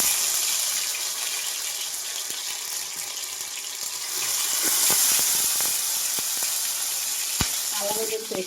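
Ginger garlic paste dropped into hot oil with cardamom and pepper for a country chicken fry, hissing in a steady, loud sizzle that swells midway, with occasional clinks from stirring.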